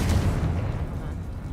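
The Confringo spell going off in the Hogwarts Legacy video game: a short, deep booming rumble that is loud at first and then fades away.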